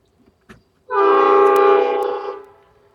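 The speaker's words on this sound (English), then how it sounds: "Oh, do you guys hear the train?" A train horn sounds nearby, a loud sustained multi-tone blast lasting over a second and then fading, with a faint thump just before it.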